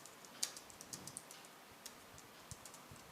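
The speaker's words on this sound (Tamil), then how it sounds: "நான் எனக்கு தேவையான கண்டென்ட்டெல்லாம் நான் இதில் டைப் பண்ணுறேன்." Light keystrokes on a computer keyboard while entering text in the vi editor on Linux: sparse, irregular soft clicks, close and quiet, with no talking.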